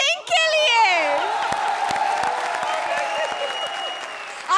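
A studio audience at a comedy circus show claps and cheers loudly, with shouts and whoops opening the burst before sustained clapping carries through to the end.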